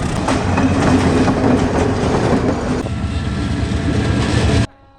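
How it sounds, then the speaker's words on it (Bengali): A loud train rumbles past over a rail bridge with heavy rhythmic clatter of wheels over rails, the roar shifting midway and cutting off abruptly near the end. "কারোদের ট্রেনটি হুইসেল দিচ্ছে ব্রিজের উপরে"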